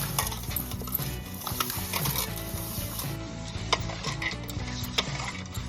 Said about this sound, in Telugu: ముందుగా మనం చేపని తీసుకొని దాన్ని బాగా కళ్ళుప్పులో వేసి ఇలా కడగాలి.